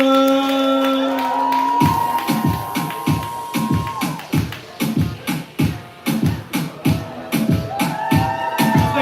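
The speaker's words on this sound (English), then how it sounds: "Start clapping, start making noise." Audience at a live poetry reading clapping, cheering and whooping as the next poet is called up, with sustained shouts and whistles over loud uneven applause that builds and then thins out.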